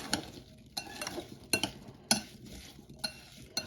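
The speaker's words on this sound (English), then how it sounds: "I'm going to mix together" Apple cake batter being mixed with a spoon in a bowl, heard as a run of rhythmic, close clinks and scrapes of metal on the bowl at regular intervals.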